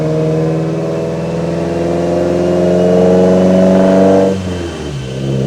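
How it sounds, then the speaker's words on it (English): A 2022 Subaru WRX on dyno day warming up close by, its engine holding a steady idle with a low tonal hum before the revs shift and drop off near the end. "the car is starting to warm up a little bit"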